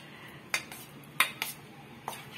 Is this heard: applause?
no